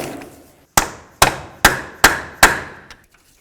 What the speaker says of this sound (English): you can hit along this area with your hammer a few times to break it free